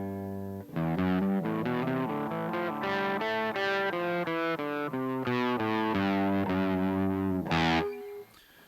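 A TEMU Les Paul electric guitar plays through heavy distortion, with sustained chords and single notes in a continuous, loud phrase that rings out alone.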